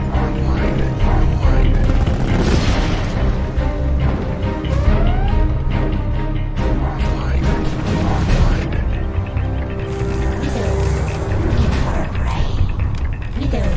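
Particle cannon firing with explosions in the Command and Conquer: Contra mod, a dense, loud, continuous wash of mechanical whirring, crashing blasts and battle effects, with unit voice lines scattered through it.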